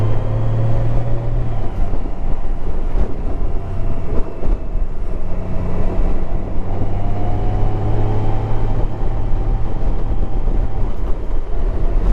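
A Honda Goldwing 1800 DCT motorcycle on the move, its engine a steady, loud drone blended with road and wind rush that holds evenly throughout, with no talking.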